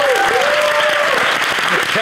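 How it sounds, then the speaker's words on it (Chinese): A studio audience on the Taiwanese talk show Miss S applauds steadily for about two seconds, a dense, even clatter of clapping with a voice talking over it. "我们给王健一个掌声。"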